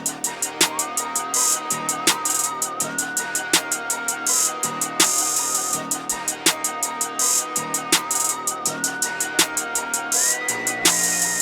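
Crisp hi-hats tick in a steady, fast pattern through an FL Studio dark trap beat, with claps and a rising synth line underneath and quick hat rolls near the end, loud and up front with no talking.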